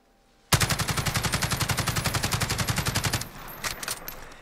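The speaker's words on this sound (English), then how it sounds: "I'm going to go ahead and test the fire with our current attachments, just without controlling the recoil at about a medium range here" An STG77, the AUG submachine gun variant in Call of Duty Modern Warfare, fires one sustained full-auto burst of about thirty rapid, evenly spaced, loud shots, then stops, leaving faint trailing echoes and a few clicks.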